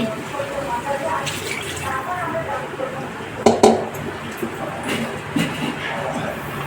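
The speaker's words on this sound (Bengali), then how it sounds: "এবার জলটা দিয়ে দিচ্ছি।" Water pours into a cooking pot of Bengali dhoka potato curry, a splashing fill with a couple of clinks of utensils against metal, while a person talks alongside.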